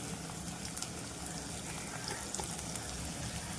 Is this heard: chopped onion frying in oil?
yes